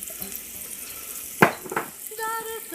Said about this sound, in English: We're going to throw some onions in there.